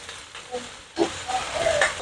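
Vegetables sautéing in a home kitchen pan: quiet at first, then a soft burst of sizzle with light clinks and stirring scrapes, close and brief.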